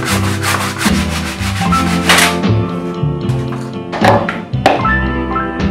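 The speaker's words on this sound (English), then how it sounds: "And I'll extend the cut with a handsaw." Handsaw extending a cut through wood, a run of close rhythmic rasping strokes, dense at first, then thinning out into a few separate strokes and knocks.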